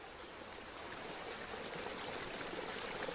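Water pours steadily into a garden castle moat, a continuous rushing, trickling flow of even loudness throughout with no voices.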